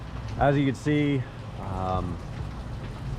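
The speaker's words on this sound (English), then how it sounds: "I think the rain is slated to like stop or slow down" Steady rain falls over a soaking wet motorcycle race track at a CMRA championship round, a continuous hiss and patter beneath someone talking close by.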